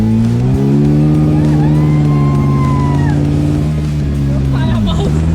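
A 1974 Volkswagen Beetle's air-cooled engine hums loud and steady on a test drive, its pitch holding even and then dropping near the end, with speech over it.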